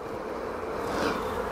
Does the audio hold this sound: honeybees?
yes